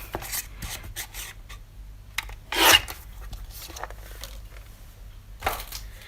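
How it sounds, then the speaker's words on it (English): White cardstock being trimmed, a few short scraping cuts and rubs, one louder stroke in the middle, quiet and close with no talk. "So I'm just going to trim another piece of this white cardstock so I can get it all inky."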